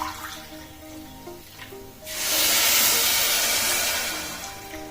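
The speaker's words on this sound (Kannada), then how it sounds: "ಅದೇ ಲೋಟದಲ್ಲಿ 2 ಲೋಟದಷ್ಟು ನಾನು ಇವಾಗ ನೀರ್ ಸೇರಿಸ್ಕೊತಾ ಇದ್ದೀನಿ" Water poured into a hot pressure cooker of fried rice for Kerala-style ghee rice, a sudden loud hiss and rush of steam and bubbling that holds steady for a few seconds after a quieter frying patch.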